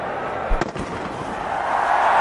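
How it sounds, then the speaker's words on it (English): Fireworks burst during an India versus South Africa cricket match, a few dull booms and cracks early on, then fading into the low roar of the stadium crowd as a commentator talks. "Got fireworks in the background."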